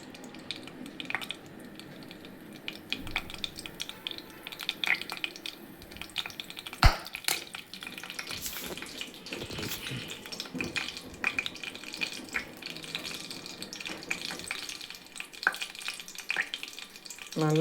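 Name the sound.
fennel, mustard seeds and urad dal frying in oil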